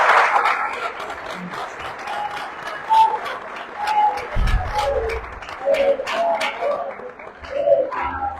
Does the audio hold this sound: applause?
yes